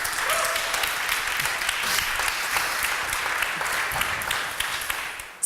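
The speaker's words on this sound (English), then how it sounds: "Let's give him a big round of applause." A conference audience at SearchStars 2017 applauds as a speaker is called up to the stage, a steady, dense round of clapping that holds evenly for several seconds before breaking off.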